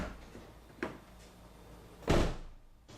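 Door on a Toyota Highlander, worked during a power window noise repair, opening and closing: a softer thump near the start and a louder, solid shut near the end, both close by, with no talking.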